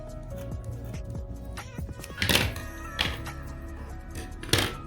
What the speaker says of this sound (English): So we'll go ahead and just cut a little slit so that your ears can fit inside.